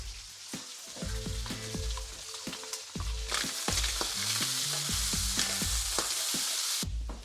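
A beef and red wine casserole mixture with beef stock being stirred in a hot pan, steady sizzling under repeated scraping strokes and knocks of the spoon, close and continuous.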